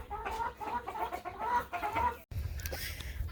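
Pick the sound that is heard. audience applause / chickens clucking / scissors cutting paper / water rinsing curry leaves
chickens clucking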